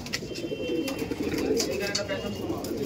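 Owl-faced Madras pigeons coo softly and repeatedly nearby, low throaty calls over a faint background, with someone speaking at moments.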